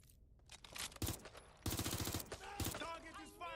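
Rapid automatic gunfire rattles in short bursts in the video game Watch Dogs Legion, close and punchy, with a voice calling out amid the shooting.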